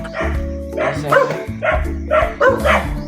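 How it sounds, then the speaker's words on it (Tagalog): Dogs bark loudly and repeatedly up close, several sharp barks in quick succession with a few yips mixed in. "Kaya ang ingay ng mga aso dito"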